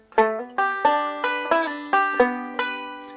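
A G fill lick played on guitar opens with a hammer-on, then runs as a series of clear plucked notes at an even pace, each one ringing briefly. Close and unaccompanied.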